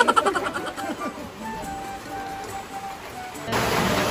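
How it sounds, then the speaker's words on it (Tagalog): Rain falls outdoors as a steady, fairly soft patter with faint wet hiss, and it grows noticeably louder and denser near the end. "Naulan pa po. Susugurin na namin ang ulan."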